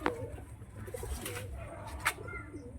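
Pigeons at a Murshidabad pigeon sale, including black-faced white birds, cooing softly in low murmuring bursts amid faint background chatter and ambient noise.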